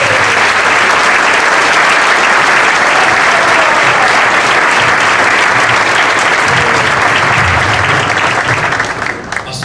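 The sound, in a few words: audience applause welcoming a speaker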